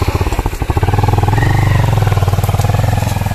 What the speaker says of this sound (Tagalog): Pasok daw ni Dong Henry yung kanyang motor.